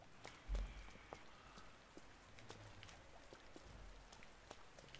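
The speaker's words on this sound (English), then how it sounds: "lots of rain. Really setting the mood." Rain falls steadily in the Resident Evil 2 Remake, with faint pattering drops and scattered sharper drips over a soft wash of rainfall, plus one brief low thump early on.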